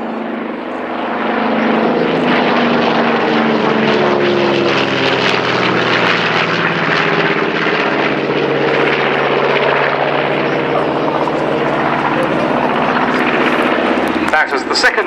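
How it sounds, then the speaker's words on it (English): A B-25 propeller bomber passes in front of the crowd at an airshow, its loud, steady engine drone rising quickly and holding strong throughout, with commentary heard faintly beneath. "Here comes the B-25 in front of us."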